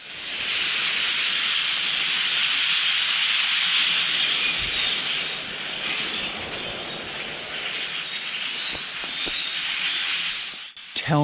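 Huge flock of grackles taking off in woodland, their wings making a loud, sustained rushing whoosh that swells and then slowly fades over several seconds.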